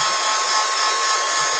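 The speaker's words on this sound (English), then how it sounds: "let's give that a little bit of a blast dry" A blast dryer or heat tool blows steadily on fresh paint on a wooden keepsake box, making a close, constant, even roaring whoosh for under two seconds with no speech.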